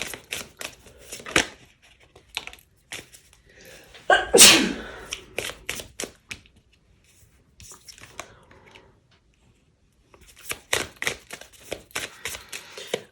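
Oracle cards shuffled by hand in bursts of crisp riffling and slapping, with a loud rushing burst near the middle, a quiet pause, then more shuffling close to the listener.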